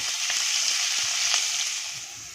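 Onion with ginger and curry leaves sautéing in oil over a low gas flame: a soft, even crackling sizzle with a few light stirring taps, fading slightly at the end.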